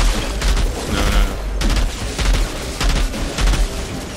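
Heavy, continuous gunfire with frost bullets in the shooter game Outriders, loud and close, with rapid shots and deep thuds blending into a dense rolling barrage.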